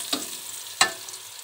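Onions frying in oil with a little turmeric, cooked down for crispy beresta, give a faint steady sizzle broken by two short scraping stir strokes.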